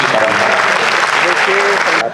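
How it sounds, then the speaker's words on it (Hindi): A crowd claps at a Hindi-language book launch event in a hall, steady applause filling the whole stretch and stopping abruptly near the end, with a voice carrying faintly through the noise. "तालियों से हौसला अफजाई करना चाहिए"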